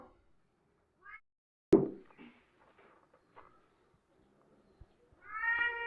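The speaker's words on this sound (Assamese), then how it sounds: "এই জহনী মেকুৰীজনী শান্তি নাই" A house cat meows indoors, a short cry early on and a louder, drawn-out meow at the close, with a sharp knock or cupboard bang and faint shuffling in the quiet between.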